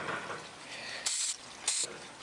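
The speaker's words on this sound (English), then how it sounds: "I have my spray adhesive, and you're just gonna spray the whole thing" Aerosol spray adhesive hissing onto a natural tree branch for a model railway layout, two short bright bursts of close spray each lasting about a quarter second, separated by quiet.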